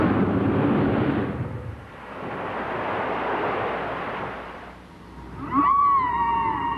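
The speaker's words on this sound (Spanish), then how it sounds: "el misterioso canto de las ballenas jorobadas ha llenado los mares" Humpback whale song rolls through the sea in long, low, surging moans that swell and fade twice, followed by a higher, tonal wavering cry near the end.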